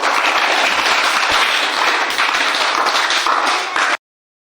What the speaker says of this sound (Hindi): सब कोई ताली मारो इसके लिए